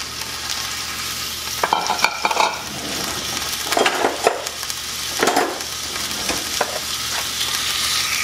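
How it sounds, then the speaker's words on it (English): Ground beef frying in an oiled pan gives a steady close sizzle, broken by several short scraping stirs as the meat is pushed around. "once you've oiled up your pan, you're gonna add your ground beef"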